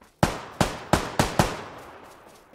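AK rifle fire in the video game PUBG: five sharp, loud shots at an uneven, fairly quick pace, each with a short decaying tail, heard alone with no talk.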